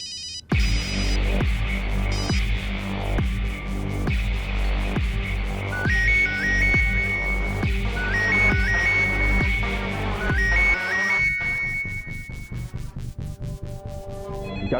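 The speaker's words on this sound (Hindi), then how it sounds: "फोन क्यों नहीं उठा रहे हो?" A telephone ringing in a tense crime drama scene, heard as a repeating electronic ringtone pattern over a pulsing, dramatic music score that drops away near the end.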